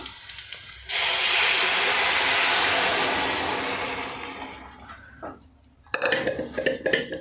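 Cooked moong dal is tipped into a hot pan on a low flame, setting off a loud sustained sizzling hiss that slowly fades, then scraping and clinking of a utensil against the pan.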